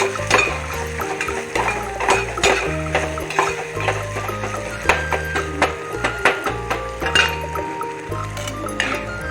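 Peanut chutney mixture with salt being sautéed in a pan, with repeated scraping and clinking of a spoon against the metal under a faint, steady frying sizzle, close and continuous.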